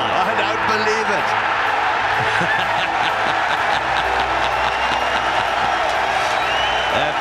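A large golf gallery roars with sustained cheering and applause after a holed shot during a final round, loud and continuous, with a commentator's voice running underneath.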